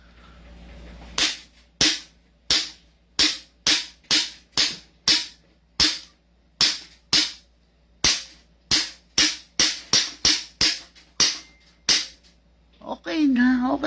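A CZ Shadow 2 airsoft pistol fires a long string of sharp, close, loud cracks, about twenty shots at a steady, slightly uneven pace, with a brief voice at the very end.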